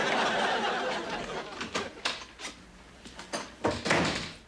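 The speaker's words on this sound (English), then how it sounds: "He fixed the closet door." A closet door in a 1984 sitcom scene shuts with a cluster of sharp wooden knocks and clicks. Soft chuckles and a low room hum sit beneath it.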